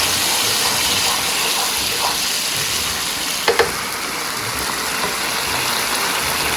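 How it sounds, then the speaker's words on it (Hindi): Green chili and ginger paste hits hot ghee in a mutton karahi, giving a steady, close sizzle and hiss throughout, with a couple of brief clinks of a spoon or pan partway through. "तो यहाँ पे हम डाल रहे हैं जो हरी मिर्ची और अदरक का हमने पेस्ट बनाया था"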